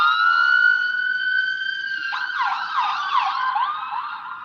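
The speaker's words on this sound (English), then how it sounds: "I hear sirens." An ambulance siren wails in rising and falling sweeps, then switches to a faster yelp, loud and fairly close and with no talk over it.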